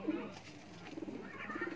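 A pigeon coos softly nearby, low throaty murmurs repeating over a quiet background.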